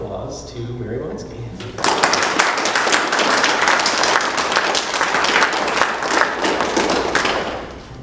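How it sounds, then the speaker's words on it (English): Audience applause at a December assembly gathering bursts in loudly after a brief opening of speech, then holds steady as dense, sustained clapping that tapers slightly at the end. "So I'd like everybody to give a warm round of applause to Mary Bochinski."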